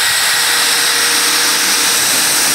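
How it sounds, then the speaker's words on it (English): A power drill set to drill mode drives a fastener into wood, giving a continuous loud, steady high-pitched whir that holds without pause for the whole stretch. "So I have it set at the drill setting and I am going to go ahead and drive this in."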